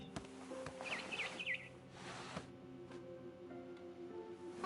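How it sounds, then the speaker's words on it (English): A barn swallow chirps in a quick run of three or four rising notes against a quiet outdoor game ambience in What Remains of Edith Finch, followed by soft bumps and faint background hum. "Then I heard chirping outside my window. It was a barn swallow going back to her nest."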